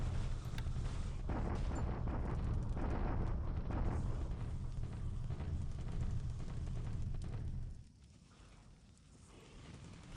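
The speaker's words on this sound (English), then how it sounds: "Not much here, just a bombardment at Tuyun." Video game bombardment at Tuyun, a dense continuous rumble of explosions and artillery-like blasts for about eight seconds before dropping to quieter background.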